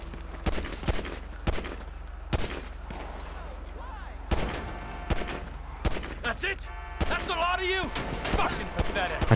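Bursts of pistol and automatic gunfire in GTA V ring out in sharp clusters at irregular intervals, loud against a steady game-engine drone, with a rapid volley near the end.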